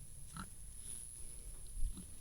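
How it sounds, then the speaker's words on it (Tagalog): A pig on a farm in the Philippines gives a couple of short, faint grunts, one early and one near the end, over quiet outdoor background noise. "may baboy dyan"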